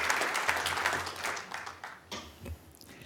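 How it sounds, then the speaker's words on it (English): Audience members clap after a talk, a moderate burst of applause that thins out and fades into scattered claps toward the end. "A warm round of applause,"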